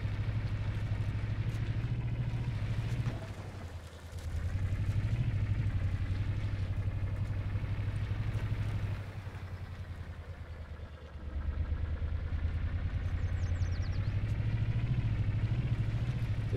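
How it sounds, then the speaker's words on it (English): A vehicle engine in the video game Scrap Mechanic drones steadily during a long drive, a low loud hum that dips twice briefly before resuming, with no speech over it. "the efficiency engine I have right now, since I'm doing a long drive"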